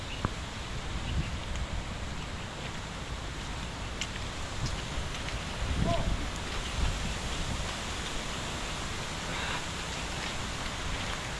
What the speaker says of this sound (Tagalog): Di na tumitila ang ulan.